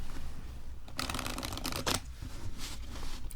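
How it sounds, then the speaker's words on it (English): Brisk riffling of playing cards at a blackjack table in two quick bursts, a dense papery flutter followed by a shorter second riffle, close and fairly loud. "I'm gonna just begin shuffling the cards"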